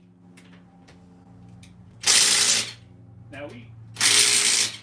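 A Chicago Pneumatic impact wrench removes the lug nuts from a car wheel during a brake upgrade. Two loud, harsh hammering bursts, each about half a second long, stand out clearly between quieter moments with brief speech.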